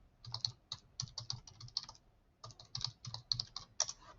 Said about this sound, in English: So I'm going to type that in, the code that we've been given.